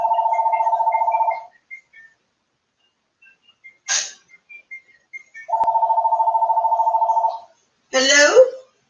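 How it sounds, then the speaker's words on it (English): A phone rings with an incoming call, two long warbling bursts with a pause between, loud and close; a person speaks briefly in the gap and again after the second ring. "Oh, somebody calling."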